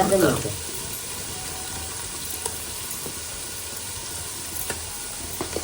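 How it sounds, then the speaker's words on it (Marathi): Spice masala frying in oil over a wood-fired clay stove, a quiet steady sizzle with a brief stir at the start and faint clicks throughout. "तेलात चांगला असा मसाला परतून घ्या"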